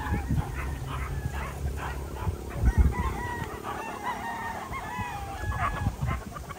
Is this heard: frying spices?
no